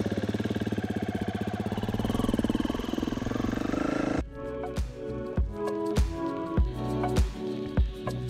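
A motorcycle engine starts and idles with a fast, even throb, then changes as the bike rides away, with revs rising and falling in repeated bursts that stay fairly close and loud.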